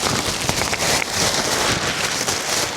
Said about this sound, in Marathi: अबे पाऊस आलाय मंडळी, खूप जास्त जोरात, एकदम धडाकेबाज.